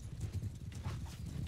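Hooves of horse archers moving out in the video game Bannerlord, a soft rapid clip-clop of several horses at a distance, faint and steady.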